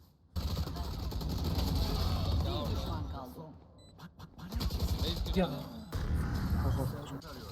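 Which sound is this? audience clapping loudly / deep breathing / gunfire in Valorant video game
gunfire in Valorant video game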